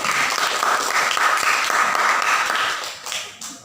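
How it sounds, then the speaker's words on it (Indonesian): Classroom applause for a student group after their presentation, a burst of many hands clapping loudly together that swells, holds steady, then tapers off near the end. "Kita kasih aplaus untuk kelompok"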